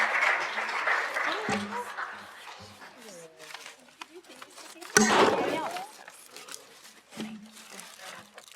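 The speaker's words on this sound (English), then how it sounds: "one more round of applause for Joy and Candace" Conference audience at the 2023 EPIC Conference applauding two speakers, with clapping that fades out early, then a fresh loud burst midway that slowly dies down.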